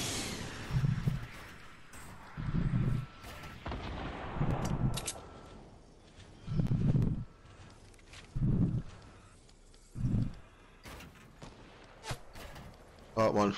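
Gunfire in Fortnite Battle Royale: a series of heavy booming shots spaced a second or two apart, each a dull thump with a trailing crack, with scattered clicks and game sounds between and a voice talking.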